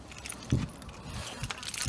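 Keys jangle briefly near a parked car at a caravan and motorhome dealership, a short close metallic rattle with a few small clinks over faint outdoor background.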